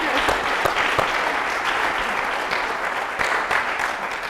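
An audience applauds during a live arts program, a full continuous patter of many hands, fairly close and loud, with a few sharper individual claps standing out as it slowly tapers.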